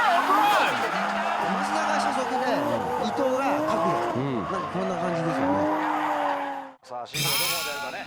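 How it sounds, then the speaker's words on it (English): A 600-horsepower drift car runs a drift in competition, its engine wailing and tires squealing in long rising and falling sweeps, loud and close, before a brief dip and a sharp renewed screech; a commentator talks over it. "He charges into his drift with his 600 horsepower beast and gives a superb run."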